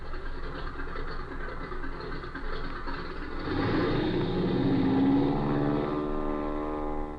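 Droning propeller airplane engine as a sound effect in an old radio drama, a steady hum that swells louder midway and holds, with no voices over it.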